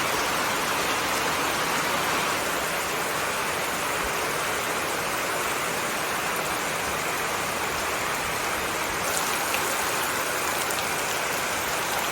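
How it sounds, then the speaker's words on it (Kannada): Heavy rain pours down in a constant, dense hiss, unbroken and even from start to finish. "ಈಗ ವಾಪಾಸ್ ಜೋರು ಮಳೆ ಬರ್ತಾ ಉಂಟು"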